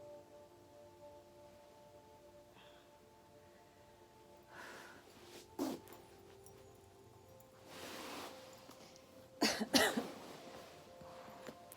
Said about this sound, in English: Sorry, has to cough sometimes.